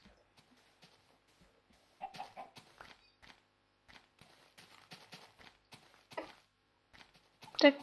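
Chickens clucking in the Minecraft video game, soft scattered clucks and a few louder game sound effects, faint and intermittent with a quiet gap near the start.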